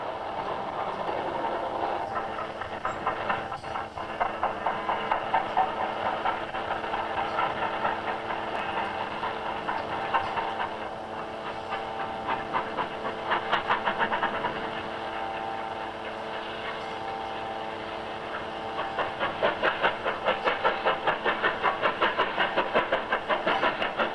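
A labouring, failing steam locomotive on the Somerset and Dorset line hauling a train in winter, its chuffing slow and uneven over a steady rumble, heard at a distance with no voices.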